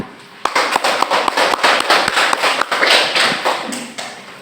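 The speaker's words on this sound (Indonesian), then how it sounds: "Ya, tepuk tangan." Classroom audience of students clapping hands together, a burst of loud, dense, irregular claps starting abruptly and continuing for about four seconds before tapering off.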